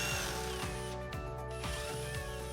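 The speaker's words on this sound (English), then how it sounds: "To cut out the rest of the wood between the holes you drilled, I used a combination of my multi-tool and just applying pressure with the side of the drill bit." A power drill and an oscillating multi-tool cut through the wood of a door, a continuous loud whirring with rhythmic ratcheting pulses roughly every half second, close and without voices.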